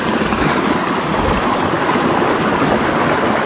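A stream swollen after rain flows in a loud, continuous rush of water, dense and steady throughout with no breaks.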